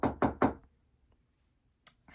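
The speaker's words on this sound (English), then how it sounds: "a soldier of the king knocked on the door of the hut" Three firm knocks on a wooden hut door, close and evenly spaced, followed by silence and a couple of faint later thumps.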